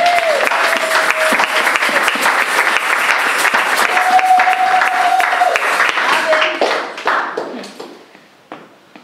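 A congregation at a church service applauds loudly, dense clapping throughout with a sustained vocal tone or cheering woven in, tapering off over the final seconds.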